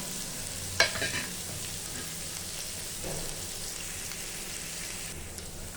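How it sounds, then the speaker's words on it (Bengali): Chopped onion frying in a pan gives a soft, steady sizzle with a brief stirring scrape near the start, quiet and alone without speech. "পেঁয়াজটা ভাজা হয়ে গেছে।"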